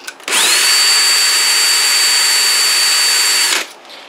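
A Dillon World's Finest Trimmer on a BL550 press trimming brass cartridge cases gives a loud, steady whining buzz that starts abruptly, holds for about three seconds and cuts off sharply.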